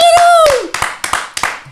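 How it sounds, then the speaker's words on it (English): Live studio audience clapping for a guest on a podcast, a few loud, distinct bursts of hands following a host's rising call, short and close. "Let's get some applause for him."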